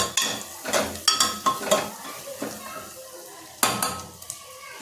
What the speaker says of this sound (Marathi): तर हे सगळं मिश्रण मिक्स करून घ्यायचं.